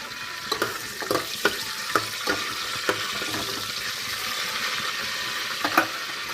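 Cinnamon, cloves and cardamom fry in oil in a pan with a steady sizzle, broken by several sharp clinks and scrapes of stirring spread through the clip, fairly close with no talking.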